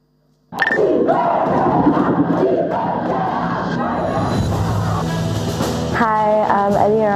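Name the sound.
audience applause and cheering at a conference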